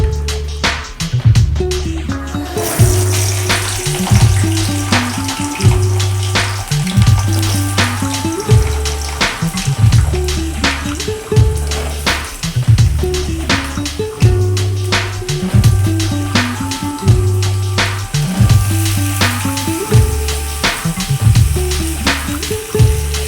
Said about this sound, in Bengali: আমি তেলের মধ্যে ফুলকপি আলুটা দিয়ে দেব।